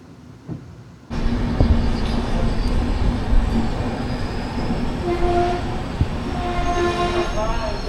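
Padatik Express, train 12378 from New Jalpaiguri to Sealdah, runs between Samsi and Malda: a loud, steady rumble of wheels and carriages starts abruptly and continues, with long horn tones sounding toward the end.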